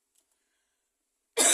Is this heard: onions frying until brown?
no